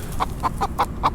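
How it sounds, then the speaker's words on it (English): Five sharp clucks from a wild rooster on a beach, spaced roughly a fifth of a second apart, near and distinct above a soft low-frequency ambience. "It's a rooster."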